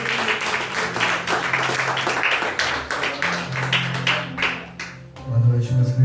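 Church congregation applauding, a dense run of claps under a steady background hum that fades out near the end as a lower tone takes over.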